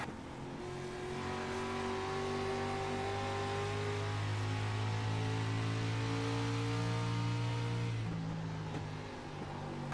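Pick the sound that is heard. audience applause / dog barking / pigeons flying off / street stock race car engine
street stock race car engine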